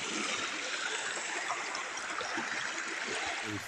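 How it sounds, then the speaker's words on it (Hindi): Water rushes through a broken mini dam outdoors, a continuous dense gushing roar at steady loudness with no voices. "देखो गाइस कैसे जा रहा है पानी ये"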